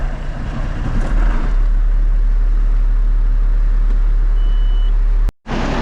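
A cold diesel tractor engine idles while it warms up, a loud, steady, low rumble that runs unbroken and then cuts out abruptly near the end.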